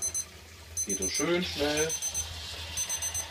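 An egg timer rings during home development of Double Super 8 colour film, giving repeated high, rapid metallic ringing bursts close by while someone speaks German over it.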